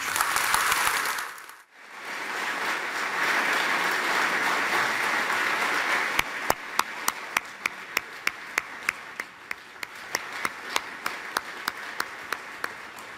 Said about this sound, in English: So applause for Jeremy Corbyn's speech in Coventry